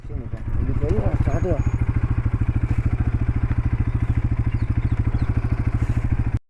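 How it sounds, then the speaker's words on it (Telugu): Motorcycles start and settle into a loud, steady idle with a rapid even putter, close by, on a forest campsite in the Ananthagiri Hills; a brief voice is heard near the start. "ఫైనలీ ఇవి బైక్స్ స్టార్ట్ అయిపోయినాం"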